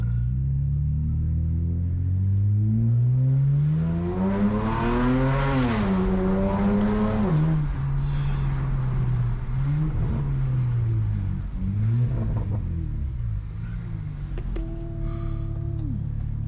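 A BMW car engine revs hard and accelerates nearby down a city block, rising and falling in pitch as it pulls away, then settles into a steady rumbling drive.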